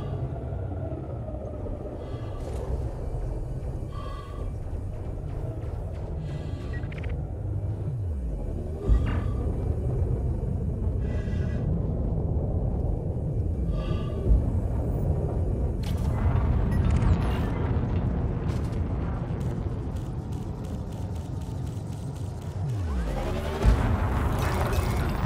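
Space combat explosions from Elite: Dangerous, a Federal Dropship/Federal Corvette-style FDL ship battling a wing in PvP: a continuous deep rumble with heavy booming blasts and crackling bursts, loud and sustained throughout with no talking.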